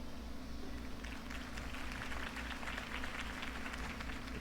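Crowd applause from the video game Batman: The Telltale Series, a sustained wash of many hands clapping at a steady level, fairly quiet and evenly spread over several seconds.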